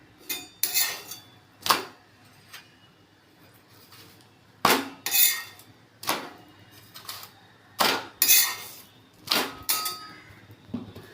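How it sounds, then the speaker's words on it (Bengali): Paratha dough being rolled out with a rolling pin, giving a series of sharp, close wooden knocks and clacks in irregular clusters, with quieter scraping between them and no talking. "আমি পোহাটা বেলছি"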